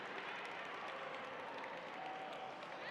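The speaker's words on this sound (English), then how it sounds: "All right, big round of applause for John Alpin." Gala audience applause, steady clapping from a room full of people, faint and continuous, with no one speaking over it.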